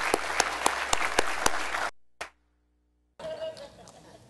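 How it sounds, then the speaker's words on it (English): A church congregation at a Sunday service gives loud, dense applause with rhythmic accented claps for about two seconds. It cuts off abruptly into silence, then faint room noise and a voice follow. "applause"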